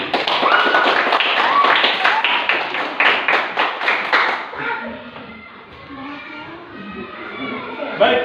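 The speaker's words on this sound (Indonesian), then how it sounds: "Kita beri aplaus untuk kita semua atas semangat kita pada hari ini." Classroom applause from a group of primary school pupils, dense overlapping clapping with a loud steady rhythm for about four seconds before fading into softer scattered claps and murmuring children's voices.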